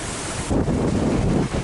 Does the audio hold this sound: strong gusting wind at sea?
yes